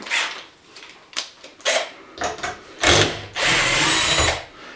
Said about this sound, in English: this is the cheapest drill you could possibly buy from Harbor Freight